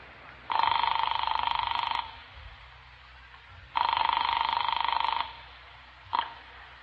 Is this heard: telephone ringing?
yes